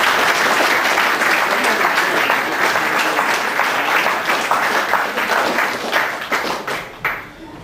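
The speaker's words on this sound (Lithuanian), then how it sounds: "Audringi aplodismentai." A large crowd at a Lithuanian school last-bell ceremony gives stormy applause, loud and dense for several seconds before thinning into scattered claps and fading out.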